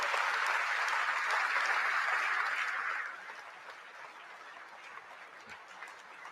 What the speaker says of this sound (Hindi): जोरदार, दमदार, जानदार तालियों के साथ स्वागत कीजिए भारत के प्रधानमंत्री श्री नरेंद्र मोदी